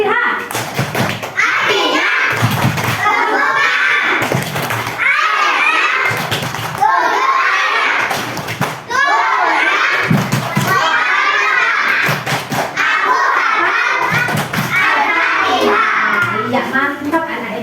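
A group of children chant the Al-Fatihah clapping rhyme together in rhythm, punctuated by sharp, loud bursts of clapping at regular intervals.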